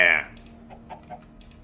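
A Minecraft chicken struck in the game gives one short, loud clucking squawk right at the start, then quieter game background.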